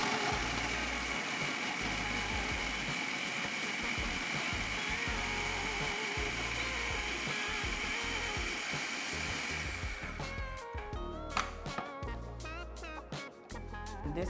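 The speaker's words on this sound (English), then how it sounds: "Now I'm going to roughly blend my peppers in here." An electric blender whirs steadily as it roughly chops peppers, a continuous motor drone that cuts out near the end, leaving a few clicks and clunks.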